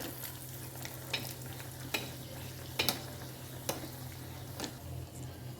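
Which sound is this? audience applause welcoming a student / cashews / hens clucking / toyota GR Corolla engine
cashews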